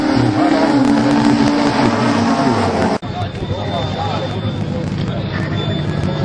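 A BMW and a petrol-engined Peugeot 206 launch side by side at a drag race, loud engine roar rising then cutting to a new pitch, with a commentator talking over it.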